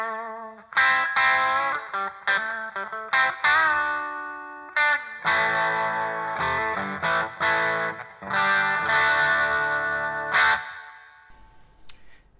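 A G&L Ascari GT-90 electric guitar on its bridge P90 pickup pushes an amp into raunchy, slightly thin overdrive, playing a run of chords and riffs with short pauses and ringing sustains, close and loud without speech.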